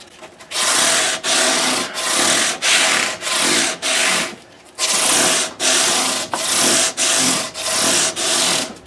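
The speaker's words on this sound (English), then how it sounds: "And now we're ready to scrub those crowns right back to dead center." Repeated scrubbing strokes across guitar fret crowns, about a dozen close, loud rubbing passes in an even back-and-forth rhythm with brief pauses between them.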